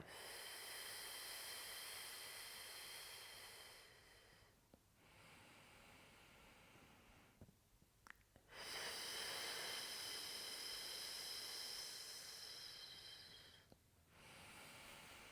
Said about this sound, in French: expirez en pinçant les lèvres.